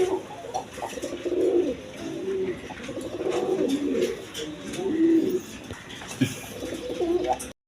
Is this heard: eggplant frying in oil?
no